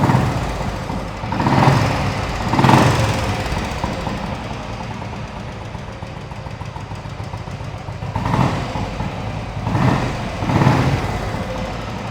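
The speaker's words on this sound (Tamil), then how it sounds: "நான் ஸ்டார்ட் பண்ணி காட்டுறேன் பாருங்கள்" A vintage Royal Enfield Bullet motorcycle with original point meter and slightly loose tappets idles nearby, its engine putting out a steady rough thump with periodic swells of revving, loud and continuous with no voices.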